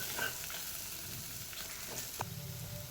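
Masala spices with turmeric fry in a pan for a paneer curry, giving a steady, close sizzle with faint stirring scrapes. No one speaks.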